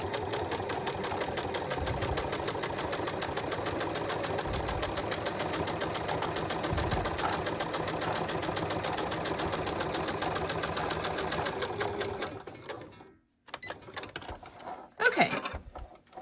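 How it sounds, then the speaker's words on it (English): Sewing machine running steadily for about twelve seconds, putting two lines of top stitching into pant fabric near a raised back pocket, then stopping with a few quieter handling sounds. "I'm doing 2 lines of top stitching"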